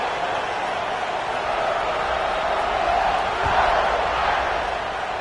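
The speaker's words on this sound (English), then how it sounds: "this crowd is buzzing after that last score" A football stadium crowd at Michigan vs Notre Dame keeps up a dense, steady roar after a score, loud and constant throughout with no distinct cheers rising above it.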